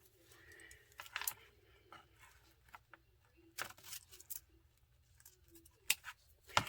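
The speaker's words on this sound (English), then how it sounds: "hopefully I have my scissors in here that are for fabric" Fabric scissors cut through folded fabric, producing several short, crisp snipping bursts spaced apart over quiet background hum, close by and fairly faint.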